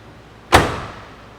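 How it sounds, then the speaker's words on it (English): A 1968 Pontiac GTO convertible car door shutting with a single solid thud, close and loud, then a short fading ring in an otherwise quiet moment. "I'm going to prove it to you with the sound of the door."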